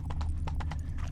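Hooves of Roach, the horse from The Witcher 3: Blood and Wine, clatter in a quick galloping rhythm, several close, distinct beats over a low rumble.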